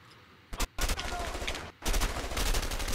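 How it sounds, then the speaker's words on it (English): Gunfire in the action game A Way Out, a quick burst of shots followed by sustained rapid firing after a brief pause, loud and close, with a faint voice underneath. "Yeah, I shot him."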